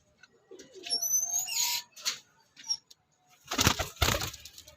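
Pigeons flapping their wings in a loft, with bursts of wing beats and some chirps and coos, near and fairly loud, interrupted by short quiet gaps.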